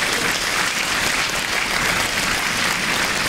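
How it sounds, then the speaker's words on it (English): Sustained round of applause from a winter concert audience, dense and steady throughout without breaks, fairly loud and close with a faint crowd murmur underneath. "and a round of applause"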